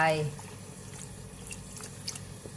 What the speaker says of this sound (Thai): เอามาผสมกับน้ำนมผมก็จะใส่นมลงไป